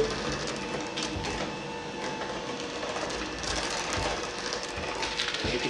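Electric mixer running on its lowest speed while mixing flour into pumpkin bread batter, a steady mechanical whir and rattle that holds constant throughout with no talk.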